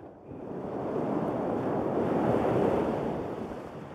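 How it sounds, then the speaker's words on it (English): Winter storm over the open sea: heavy surf and gusting wind build into a broad, continuous roar, swelling louder through the middle before easing slightly, with no voices. "A storm over water,"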